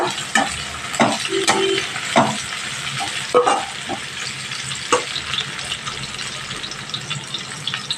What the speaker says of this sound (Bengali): পেঁয়াজ লঙ্কাটা একটু ভালোভাবে ভেজে নেওয়া